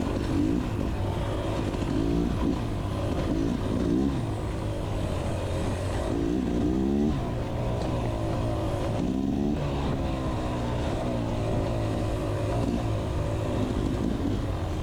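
Dirt bikes, including a Beta Xtrainer 300, roar past in a steady stream during a hare scramble race in the woods, engines revving and fading as riders pass close by.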